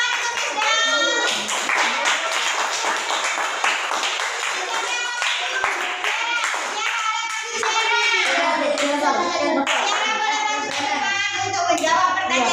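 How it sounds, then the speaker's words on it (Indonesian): Children in a classroom break into a sustained burst of clapping, dense and close, with young voices cheering through it and a brief spoken voice near the end. "Beri tepuk tangan"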